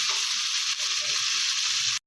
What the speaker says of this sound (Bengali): মশলা ভাজা দিলাম, দিয়ে একটু নাড়াচাড়া দিয়ে দিলাম।